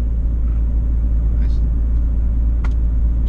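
Inside a RallyWagon with modified suspension, the cabin fills with a steady, loud, low engine and road rumble while it drives, with faint voices and small rattles above the drone.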